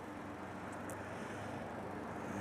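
Road traffic rolls past as a steady, broad rumble of tyres and engines, heard without any voices.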